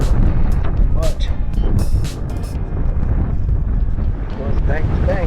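Strong wind buffets the microphone at a muddy crossing on the Guadalupe River, a steady loud low roar throughout with brief gusting bursts and faint voices under it.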